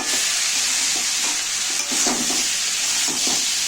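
Onions softened with salt fry in a pan for chicken curry, a steady close sizzle with soft scraping stir strokes at irregular intervals and no talking.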